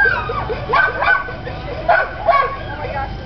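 A dog yips and barks in short bursts, several close sharp calls with whimpering tones, while people talk over it.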